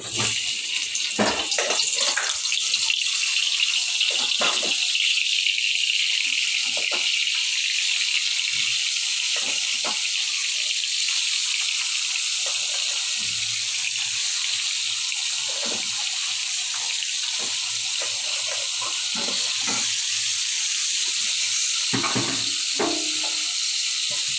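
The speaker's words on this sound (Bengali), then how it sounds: "তেল দিয়ে দিয়েছি তো আমি কাঁকড়াটা দিয়ে দিচ্ছি" Crab frying in hot oil in a pan, a constant hissing sizzle running throughout with scattered soft knocks and stirring sounds, close and steady, no speech.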